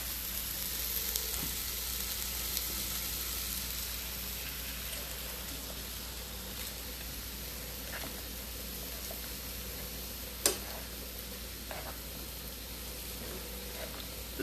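Cabbage and kielbasa frying in a pan, a steady close crackling sizzle that continues throughout, with occasional small pops and one brief sharp clack partway through.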